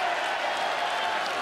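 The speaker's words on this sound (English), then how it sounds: "Double leg, and the crowd goes wild." A crowd roars at a St. Patrick's Day free fight, a dense, loud, sustained wash of cheering and applause throughout.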